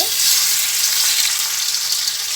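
Marinated chicken coated in ginger paste, garlic paste, soy sauce and ground pepper frying in a pan, a loud steady sizzle that holds evenly throughout with no talk over it.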